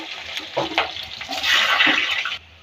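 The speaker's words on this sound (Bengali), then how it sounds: "আলুগুলো ভাজা হয়ে আসছে।" Potatoes sizzle in hot oil seasoned with fenugreek seeds and bay leaf, a steady crackling fry with scraping stirs near the pan that swells louder midway, then cuts off abruptly.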